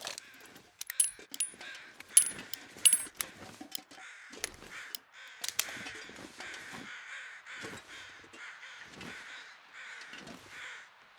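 Crows caw repeatedly in the snowy wilderness of the survival game The Long Dark, harsh scattered calls overlapping at varied distances, some sharp and close, others fainter, over a quiet wind-like hush.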